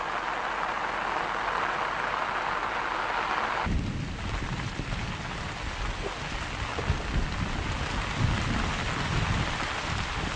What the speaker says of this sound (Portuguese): A chuva é um fertilizante natural que traz o nitrogênio do ar.